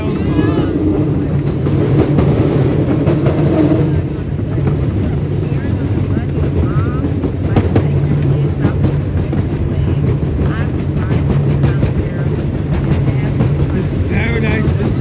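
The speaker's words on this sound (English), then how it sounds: "Diesel locomotive pulling a rail car." A Paradise and Pacific Railroad diesel locomotive, number 209, pulls a rail car at a park railroad, a steady close engine rumble with wheel noise running throughout, with people talking over it.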